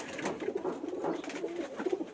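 Pigeons coo softly and continuously nearby in low, throaty rolling calls that overlap one another, with no voices.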